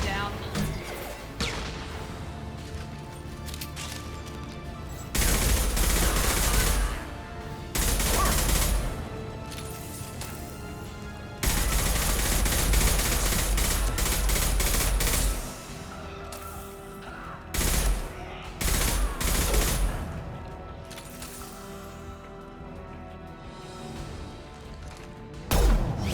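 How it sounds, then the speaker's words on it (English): Rifle fire rings out in the video game Mass Effect 2, with loud, dense bursts of shooting in several stretches that break up quieter passages of game sound. "I love this rifle. This will put them down."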